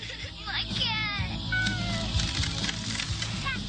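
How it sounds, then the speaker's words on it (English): Cat meows from a movie scene play over a dense soundtrack of music and effects, with several rising and falling cries early on, fairly loud, and voices talking among them. "Just launched the cat across the street."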